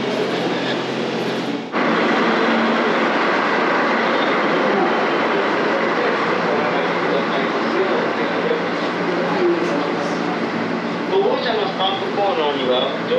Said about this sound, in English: Apparently the train has just arrived in the platform.